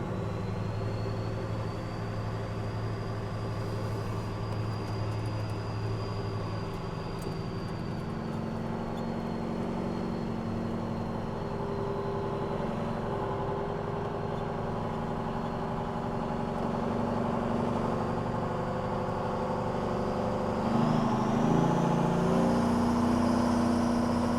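A semi truck engine with a loose belt runs steadily up close, a low continuous drone with a faint whine riding above it, swelling slightly near the end.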